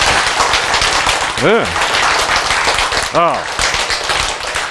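An audience claps in dense, continuous rattling patter, while a voice briefly calls out over it twice.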